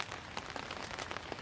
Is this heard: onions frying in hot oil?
no